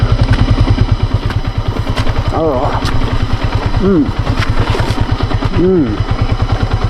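A motorcycle engine chugs steadily with a fast, even low thump from start to finish, while a voice speaks briefly over it.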